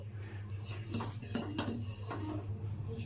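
A spoon stirs a cooking jaggery mixture in a pot, giving repeated scraping clinks against the metal at a steady moderate level, with a low hum running underneath and no talking.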